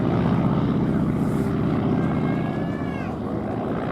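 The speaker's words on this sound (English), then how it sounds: "The last pass there by these two aeroplanes." A Ryan STA and a Boeing PT-17 Stearman, both vintage propeller aircraft, make a flypast at an air show. Their engines hold a loud, steady drone that fades slightly as they pass overhead.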